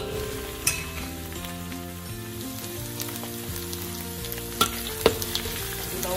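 Onions frying until crispy for sambal petai, a continuous close sizzle and crackle in hot oil with a few sharp pops and light stirring clinks, steady and moderately quiet, with no voices.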